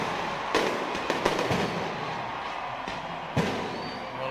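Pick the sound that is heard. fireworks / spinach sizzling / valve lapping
fireworks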